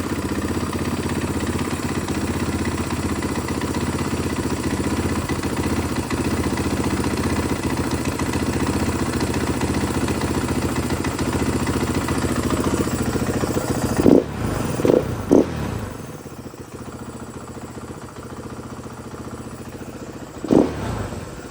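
A 2015 KTM 500 EXC dirt bike runs on a newly fitted cylinder. It idles steadily and close for a long stretch, then gives a few sharp throttle blips before settling lower, followed by one more short rev.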